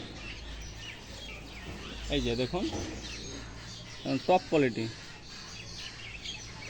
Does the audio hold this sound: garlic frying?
no